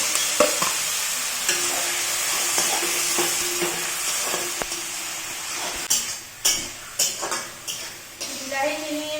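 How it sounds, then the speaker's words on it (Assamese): Tomato paste frying and being stirred with browned onions in a pan, a steady sizzle with a few spoon scrapes and clinks near the end. "বিলাহীখিনি ভজা হৈ গ'ল, ৰঙচুৱা পৰিছে।"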